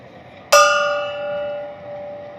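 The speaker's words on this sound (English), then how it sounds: "Bang the gong for JT." A gong struck once during a baseball watch-party livestream, a sharp hit followed by a long shimmering ring that slowly decays, alone with no talk.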